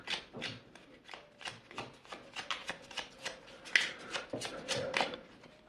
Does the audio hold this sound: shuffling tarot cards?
yes